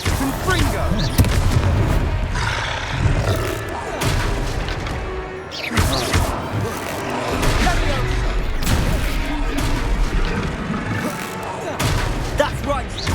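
Repeated explosive booms and crashes from Confringo fire spells during a Hogwarts Legacy battle, heavy and loud, with game voices and combat clatter mixed in throughout.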